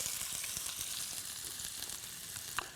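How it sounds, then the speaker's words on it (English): Steady, dense sizzling of food frying in hot olive oil on a stovetop, crackling and hissing close up, with a brief sharper pop near the end. "I hear the sizzling. Hear that sizzling."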